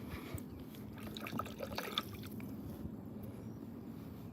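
Bluegill sunfish, caught on red worms, slipped back into lake water from a small boat, giving a soft close splash and trickling drips over steady low outdoor ambience.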